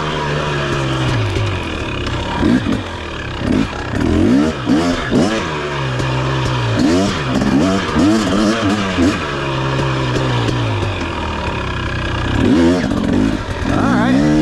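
A 2023 KTM 250 XC two-stroke dirt bike revs hard through repeated rising and falling bursts with a front-wheel lift, loud and close to the rider. A voice speaks over it in places.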